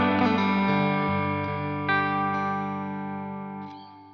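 An electric guitar played through a Black Country Customs Secret Path Reverb pedal on a high setting lets sustained chords and a few picked notes ring out with long, lingering decay, loud and close.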